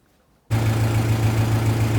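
A Lovol 354 tractor engine idles close by, starting abruptly after a brief silence and holding a steady, loud low hum with no voices.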